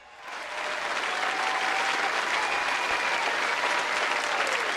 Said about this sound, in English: Let me give him a clap right quick for that.